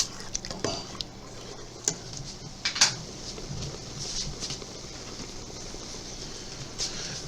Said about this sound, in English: Stir it pretty often so we don't burn it or scorch it on the bottom.